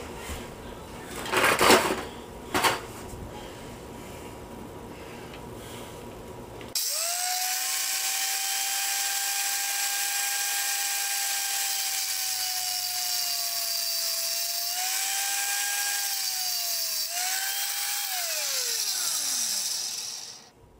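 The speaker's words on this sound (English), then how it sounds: "Alright, use my grinder." An angle grinder cuts at welded joints on a homemade stick welder, starting suddenly with a loud sustained whine that holds steady and then winds down near the end, after a few faint knocks.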